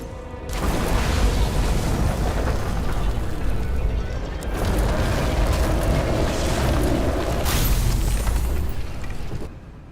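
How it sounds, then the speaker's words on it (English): A transformer fire explodes in a detective noir video game, a sustained roaring blast with deep rumble and crackling bursts that swell twice across ten seconds, loud and continuous with no speech. "Someone flooded the transformer and it caught fire. The cable acted like a fuse. That's what caused the explosion."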